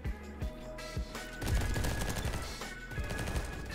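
Rapid MP5 gunfire in the Roblox shooter Bad Business: several loud, close bursts of automatic shots rattle in quick succession, with no voices over them.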